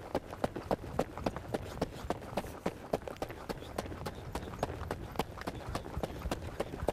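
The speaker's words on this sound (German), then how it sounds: "Sauberer, weiter, taktklarer, ausdrucksvoller Trab in guter Haltung." Rhythmic hoofbeats of a horse trotting in a clean, even two-beat gait, crisp regular thuds close by and steady throughout over faint background noise.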